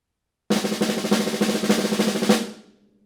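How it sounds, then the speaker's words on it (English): Snare drum paradiddle rudiment played in quick succession as an even, rapid run of strokes with accents, starting abruptly and ringing out briefly at the end. "Played in quick succession, the paradiddle sounds like this."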